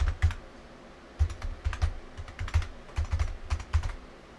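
Password typed on a computer keyboard, heard as a few short bursts of quick, close key taps with brief pauses between them, with no talking.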